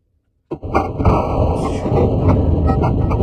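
Sudden burst of rapid gunfire starts after a short silence and keeps going, loud and dense, with a lot of background game noise.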